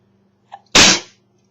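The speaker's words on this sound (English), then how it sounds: "I just sneezed." A single close, loud sneeze bursts out after a brief sharp intake of breath, then fades quickly into quiet room tone.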